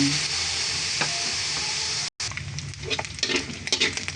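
Pork fat renders in a hot pan, giving a steady close sizzle and crackle with a brief dropout midway and a few soft stirring scrapes, no voices.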